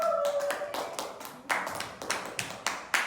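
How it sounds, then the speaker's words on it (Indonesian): A small class claps for everyone during a microteaching lesson, with a brief tone at the start followed by a handful of scattered, separate hand claps close by, uneven in rhythm and fading into sparse taps. "Tepuk tangan buat semuanya."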